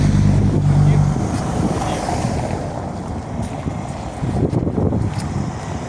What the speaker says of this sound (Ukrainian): Вітряно трохи сирість.